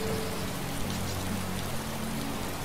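Steady rain patters densely on surfaces, a continuous hiss with no voices.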